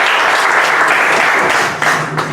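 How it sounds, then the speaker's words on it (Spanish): Audience applause at a literary book presentation, loud sustained clapping from a crowd that holds steady and then thins slightly toward the end. "Pido un fuerte aplauso para todos los presentes en esta mesa de lujo."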